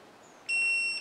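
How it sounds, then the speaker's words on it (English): A short electronic beep, a sustained high tone switching on halfway through and holding steady to the end, heard alone in a quiet workshop during LQ9 engine bottom-end assembly. "Beep."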